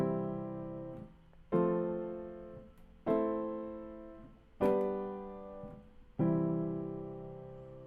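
A keyboard plays a 1-4-6-5-1 chord progression in root position: five sustained chords struck about every one and a half seconds, each ringing and slowly fading before the next, alone with no voice.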